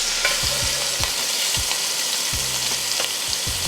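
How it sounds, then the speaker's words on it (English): Short ribs sear in a hot pan with a steady, loud sizzle and crackle, broken by a few sharp clunks and scrapes of the meat being moved. "And that, my friends, is what you call a perfect sear."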